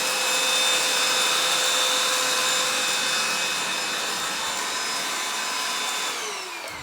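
Gtech Pro cordless bagged vacuum cleaner running in max mode over thick pile carpet, a steady loud close motor whine with a high tonal hum that holds throughout and eases slightly near the end.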